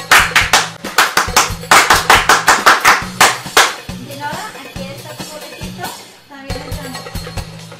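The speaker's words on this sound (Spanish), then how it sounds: "pues un aplauso para Dinora" A small group clapping for a raffle winner, rhythmic close-up claps in quick bursts that fade to a few scattered claps and quiet room noise.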